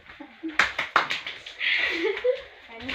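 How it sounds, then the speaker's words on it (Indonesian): A class applauds during a micro-teaching English lesson, a short burst of scattered hand claps under and between a teacher's voice and light chatter. "Tepuk tangan."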